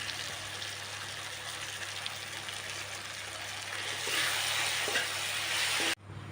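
Potatoes with cumin, coriander and garam masala sizzle steadily in a pan as they are stirred, the frying noise growing slightly louder near the end before a sudden cut.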